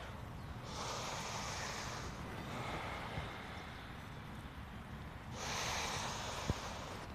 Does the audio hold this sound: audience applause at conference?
no